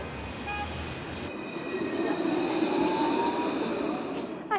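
A light rail tram rolls through a French city street, a steady rumbling train noise that swells as it passes, with faint wheel squeal tones and no talking.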